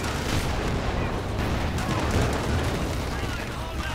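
Anti-tank grenades burst among conscript infantry in a Company of Heroes 2 match, a dense, loud wash of explosions and gunfire rumbling continuously throughout without clear breaks.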